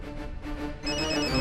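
A telephone rings in a tense household setting, a steady electronic ring that swells louder partway through, with no speech over it.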